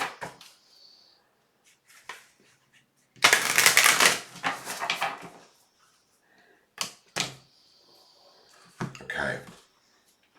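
Tarot cards shuffled in bursts, with a long rustling riffle in the middle and a few shorter shuffles and taps after it, close and fairly loud over quiet gaps.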